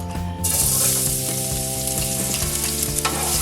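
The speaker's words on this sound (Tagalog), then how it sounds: "So, susuti ko muna yung aking bawang." Garlic sautéing in hot oil in a pan as the first step of cooking blue crab, a steady loud sizzle and crackle close up that starts abruptly and continues without talk.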